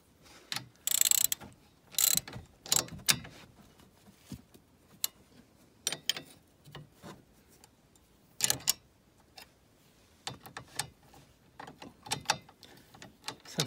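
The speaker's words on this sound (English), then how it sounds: "Now you want to tighten these 13 millimeters that are in the back that hold your caliper on" A ratchet clicks in short, uneven bursts while tightening the 13 mm bolts that hold a brake caliper on an R56 Mini Cooper S, close up, with quiet gaps between strokes.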